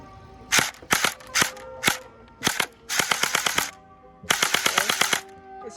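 A Glock 18C gel blaster firing outdoors at a range, snapping off single shots and then rapid automatic bursts of sharp, close pops with short pauses between strings.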